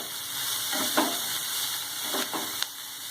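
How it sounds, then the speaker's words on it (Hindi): Rice stir-fried with salt in a pan for Schezwan fried rice, a steady bright hiss with a few short scraping tosses and one sharp tap, close and without speech. "वापस इसे भून लेंगे।"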